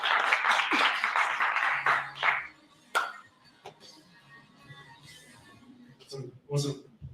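An audience at Africa's largest cyber security summit claps for an incoming speaker. A dense burst of applause fades after about two seconds, leaving a sparse room with scattered knocks, handling sounds and brief voices.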